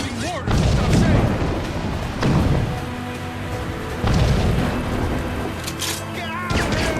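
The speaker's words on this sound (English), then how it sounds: "Chevalier's using mortars to stop sail!" Ship mortar fire in the naval combat of the video game Assassin's Creed Rogue: several deep booming blasts at irregular intervals over game music and ambience, with a character's voice calling out between them.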